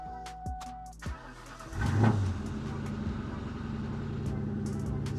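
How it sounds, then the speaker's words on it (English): A 2004 Ford Mustang GT engine is cranked and catches at about two seconds, surging loudly, then settles into a steady, deep idle rumble that fills the rest of the clip. "Start the car."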